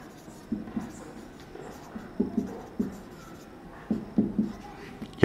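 A circle equation being written on a board: soft scratchy strokes and taps come in short separate bursts with pauses between them, fairly quiet and close, with no talking over them.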